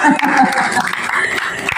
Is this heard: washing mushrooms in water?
no